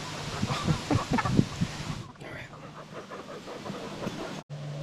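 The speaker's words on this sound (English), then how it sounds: "You're the queen chicken now." Chickens on a roost at a small homestead in the woods cluck in short, close bursts during the first seconds, then settle into quieter murmuring and rustling.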